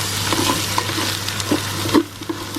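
A spoon works madras powder into a Quorn vegetable curry in a pan, giving soft scraping strokes and a few sharper taps over a low hum and gentle sizzle.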